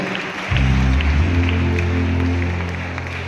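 An audience claps together at a Christmas celebration in Manna church, Suryapet. Steady, fairly loud applause begins abruptly and continues over a low sustained background tone before easing slightly.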